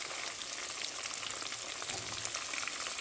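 Catfish fillets frying in hot oil until golden and crispy, a steady, dense crackling sizzle that holds even and close throughout, with no voices.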